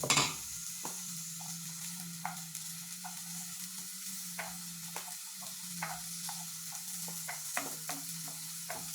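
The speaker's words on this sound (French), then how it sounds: "j'ai mis de l'huile dans une poêle et je vais faire frire un peu mes oignons" Onions fry gently in oil in a pan, with a low, steady sizzle broken by scattered small pops and light clicks, fairly quiet and close.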